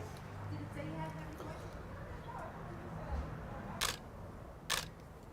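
Two crisp camera shutter clicks from a Nikon D800 fitted with a Sigma 85mm lens sound near the end of a quiet outdoor portrait shoot, following soft background voices.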